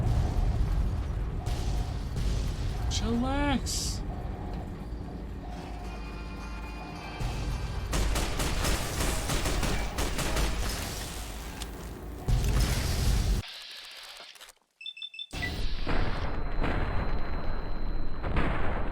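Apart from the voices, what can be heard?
explosions and artillery fire in a video game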